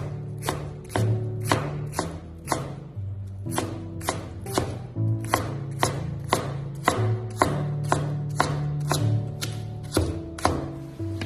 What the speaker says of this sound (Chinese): 先切成细丝， 然后再切成洋葱末